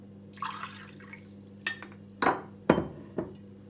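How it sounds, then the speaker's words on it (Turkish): Water being added little by little to homemade bread dough, a few separate wet splashes and drips that grow stronger toward the end, close and otherwise quiet. "Azar azar ekliyoruz suyumuzu"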